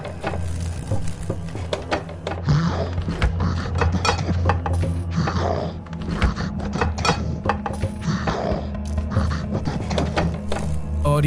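A kitchen refrigerator makes eerie mechanical noise in a horror story setting: a steady low hum under continuous clicking, rattling and ticking, constant in loudness throughout.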